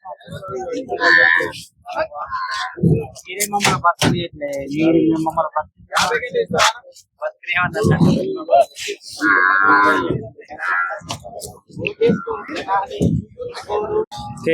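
Calves moo repeatedly, loud and close, at a Sunday cattle market in Erragadda, Hyderabad, amid the busy chatter of people talking nearby.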